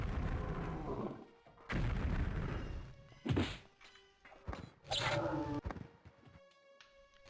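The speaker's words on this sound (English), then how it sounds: "Someone's shooting at me." Gunfire and heavy thumping impacts from an enemy shooting at the player in The Elder Scrolls II: Daggerfall, a 1996 PC game: several loud, separate blasts spaced a second or two apart, with ringing tails and quiet gaps between.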